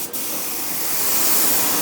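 Graco HVLP 9.5 spray gun spraying in a small workshop, a loud steady airy hiss that starts with a brief burst and then runs continuously up close.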